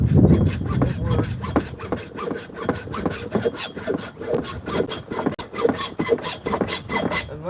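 Hacksaw blade cutting a metal wedge on an axe, with steady back-and-forth rasping strokes close up and loud, each stroke clearly separated in an even rhythm.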